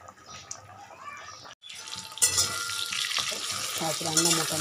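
Fish frying in oil in a home kitchen pan, a steady sizzle with stirring and clatter that grows louder partway through, alongside running water nearby.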